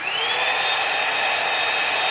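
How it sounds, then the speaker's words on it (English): A Revlon One-Step hair dryer volumizer runs on its cool setting, a steady close whoosh of air with a high motor whine that rises slightly as it spins up. "Okay, so I'm gonna put it on the cool setting first."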